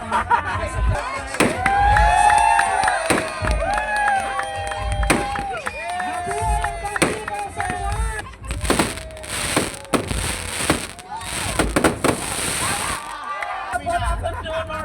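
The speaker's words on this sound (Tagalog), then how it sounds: "Thank you, Lizelle, for donating our fireworks display." Fireworks display at a 2001 batch school reunion, with crackling bursts and pops going off over a lively crowd that chatters and cheers throughout.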